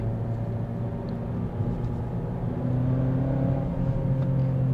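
2019 Mazda Axela engine with a six-speed transmission, heard from inside the cabin: a smooth, steady low hum that swells slightly as it builds, with faint whirring above.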